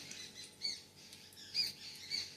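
Several different birds squawk and call outside a house surrounded by trees and fields, with three short, sharp calls rising out of a quiet, faint background.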